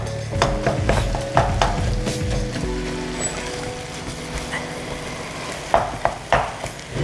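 Ground turkey is broken up and stirred in a hot pan for chilli: steady sizzling with repeated scraping and knocking strokes of a utensil, close and continuous, with no talking.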